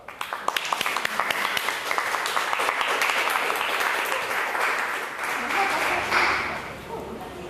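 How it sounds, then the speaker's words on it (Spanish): An audience at a panel on social pastoral challenges breaks into steady applause for a speaker, dense clapping that starts with a few distinct claps and holds at a full level for several seconds. "Un aplauso para Nelly."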